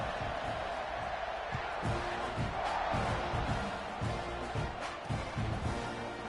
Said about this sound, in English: You always want to get the home crowd jacked up and get them excited.